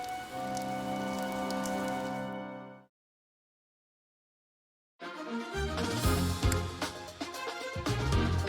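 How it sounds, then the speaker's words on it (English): Heavy rain in Fire Emblem: Three Houses, a dense steady downpour hiss that cuts to silence for a couple of seconds, then returns louder with patters and splashes. "The rain is really coming down now."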